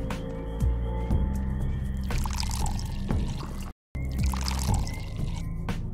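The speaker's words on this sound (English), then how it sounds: "I love that water sound effect." Water pours and trickles steadily in the game Pathologic, layered over a low humming drone, with a brief dropout of sound midway before the flow resumes.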